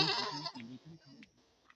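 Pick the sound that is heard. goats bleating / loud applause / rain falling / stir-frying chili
goats bleating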